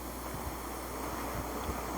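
Ocean surf in Laos, a steady wash of waves with rumbling wind buffeting the microphone throughout, continuous and fairly close, with no voices.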